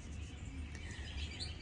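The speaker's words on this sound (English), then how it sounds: "there's a little bird that flew down" A small bird chirps faintly in the distance, with a few brief high tweets barely rising above a steady low hum.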